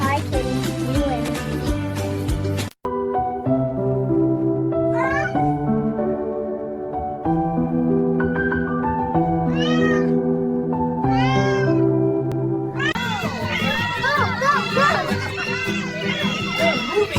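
Cats meow repeatedly, loud and close, with drawn-out rising and falling calls over cheerful background music.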